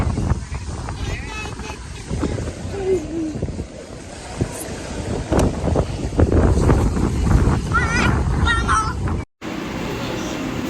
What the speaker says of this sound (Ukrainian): Я люблю дуже таку погоду, вітерець, тепло і хвилі.